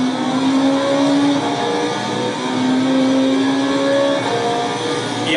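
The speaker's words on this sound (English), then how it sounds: "coast, coast, coast, wait, downshift, engine braking" A race car's engine holds a loud, close, steady tone through a corner, with its pitch stepping between gears as the car downshifts and slows on engine braking.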